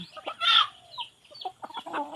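Old hen clucking at close range, a few short irregular clucks and squawks in quick bursts, fairly loud with brief pauses between.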